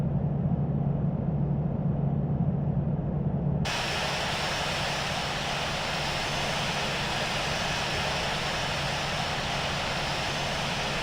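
Airbus A320 jet engines in Alaska Airlines livery roar steadily during a landing at San Francisco in the Infinite Flight game, a continuous, loud, even drone that suddenly turns brighter and wider partway through.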